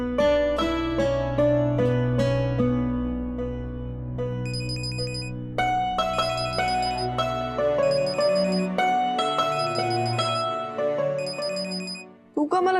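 A mobile phone ringtone plays indoors at home, a loud, continuous melodic tune with repeating bright tones that rings for about twelve seconds before cutting off abruptly near the end.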